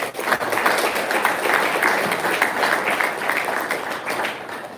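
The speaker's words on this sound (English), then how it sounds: "So please join me in giving them a round of applause." Audience applause at a university athletics divisional event, steady and dense throughout, moderately loud and sustained with no break.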